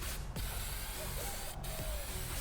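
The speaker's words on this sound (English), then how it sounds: "so just going to give it a bit of a spray." Aerosol spray hissing onto a cooled Toyota Land Cruiser 80 series engine to clean spilled engine oil, a steady close hiss with a couple of faint mechanical clicks and short bursts.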